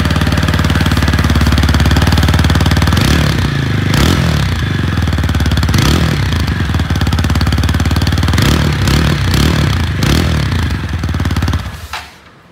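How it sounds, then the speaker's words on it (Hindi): A TVS Apache RTR 160 4V motorcycle with a dual-barrel exhaust idles loudly up close in a fast, steady thrum. Several quick revs rise and fall over it before the engine shuts off at the end. "यहाँ पे जो है आपको ड्यूअल बैरल एग्जॉस्ट मिल जाता है इसकी साउंड आपको अच्छी खासी मिल जाएगी"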